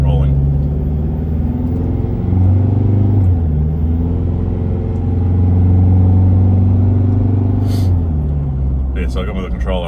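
A car towing with an electric brake controller pulls away, its engine rumbling low and steadily, the tone shifting as it gets moving, with a brief click near the end.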